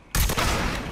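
A loud gunshot from a weapon fired in the video game Mafia 3 for a headshot, an abrupt sharp blast with a short decaying tail, close and alone.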